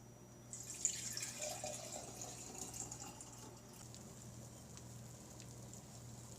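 Milk drained from salted fish being poured into a jug, a soft trickling stream with light splashes that fades to a faint, quiet flow toward the end.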